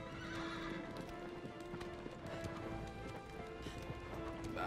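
Horse galloping in the Shadow of the Colossus video game, rapid rhythmic hoofbeats clip-clopping continuously at close range, with a short whinny and no talk.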